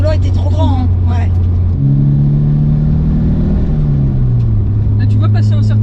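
A BMW E21 engine revs while driving, a steady mid-low drone whose pitch climbs and shifts through several rises and drops, loud and continuous, with people talking over it.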